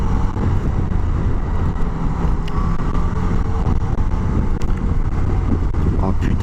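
Steady engine and road roar from a Yamaha Niken 900 three-wheeled motorcycle being ridden, loud and continuous with wind buffeting the microphone throughout.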